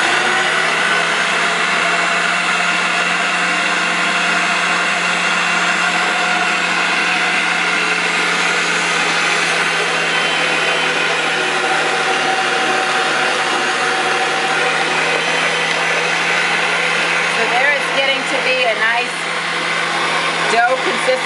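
Stand mixer kneading homemade bread dough as wet ingredients work into flour, a steady loud motor whir with a constant hum running unchanged throughout.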